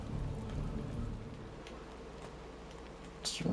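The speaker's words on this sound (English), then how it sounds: "It's raining. I don't want to catch cold." Steady rain in the video game Marvel's Midnight Suns patters continuously with a low rumbling backdrop, and a brief bright hiss swells near the end.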